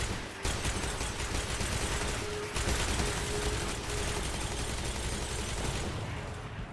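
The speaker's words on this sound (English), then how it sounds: "Now what we're going to do is just fire from the hip" Sustained rapid automatic fire from the Sweet Business gun shot from the hip in Destiny 2, a dense continuous roar of rounds with a brief break near the start and another midway.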